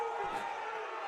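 Crowd noise at a Boone varsity wrestling quadrangular, a steady roar of spectators cheering and calling out during a near fall, continuous and fairly loud throughout.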